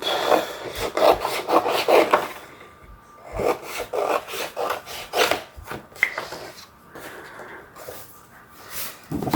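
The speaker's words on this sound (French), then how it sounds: "je coupe ensuite le long de ce trait" Cutting along a drawn pencil line while making an album cover, close scratchy rasping strokes in quick bursts with short pauses between them, no talking.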